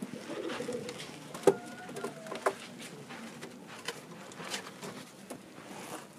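Soft cooing of young pigeons rises and falls against a quiet room, with a few sharp taps and rustles of handling in between.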